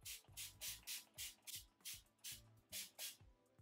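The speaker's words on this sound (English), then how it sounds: "He used the Flawless Mist and Fix Makeup Setting Spray." About ten quick, close bursts of makeup setting spray (Flawless Mist and Fix) hiss in a steady rhythm, each a short airy mist with faint handling noises between.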